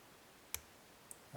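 Lock pins clicking while a LIPS Octro lock, a clone of the Keso 2000, is being picked: two small, sharp clicks about half a second apart, faint against near silence.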